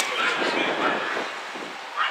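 Dogs at a camp in Holland bark and whimper in short, overlapping yips, moderately close, with people's voices mixed in.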